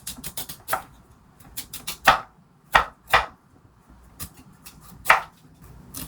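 A knife cuts the hard skin off a microwave-steamed kabocha squash, producing sharp close cutting clicks and thuds on a board in an irregular series of a dozen or so strokes, with no talking.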